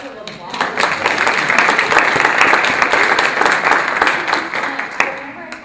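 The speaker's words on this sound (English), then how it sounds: "Let's give them a round of applause." A seated audience at a student organization advisor summit gives a sustained round of applause, dense and even clapping that swells slightly and then tapers off near the end.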